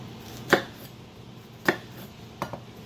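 Knife slicing through a mushroom for a BBQ mushroom burger, three sharp separate cuts striking the board, close and clear, with quiet gaps between them.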